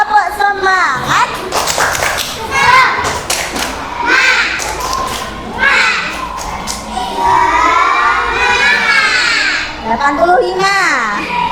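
A class of Indonesian schoolchildren does a rhythmic group clap in a classroom, quick bursts of claps mixed with lively shouting voices and an adult speaking, loud and close.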